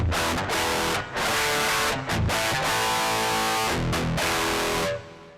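Harsh, fizzy distorted electric guitar through a TONEX amp capture with no cab emulation, played in loud strummed chords with brief gaps, raw and buzzy without any speaker cabinet warmth.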